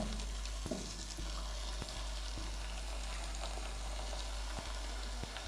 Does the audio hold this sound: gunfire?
no